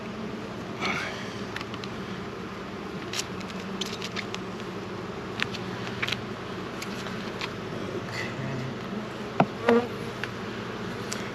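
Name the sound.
honeybees buzzing at hive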